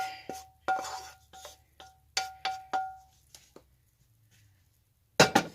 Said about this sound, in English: I'm going to add my onions and hamburger and my garlic mixture that I cooked up.